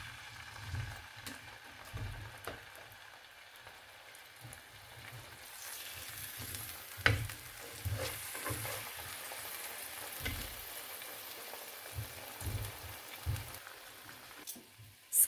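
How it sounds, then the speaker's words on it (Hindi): Salmon fries skin-side down in oil in a frying pan over medium to low heat, a soft, steady sizzle with faint crackles and a few small knocks. "स्किन वाली साइड से हम फिश को मीडियम टू लो हीट पे फ्राई कर लेंगे 5 मिनट के लिए।"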